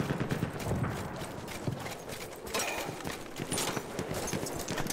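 Steady clip-clop of a mountain horse's hooves trotting in a video game over a busy, dense game soundscape, continuous and fairly close throughout.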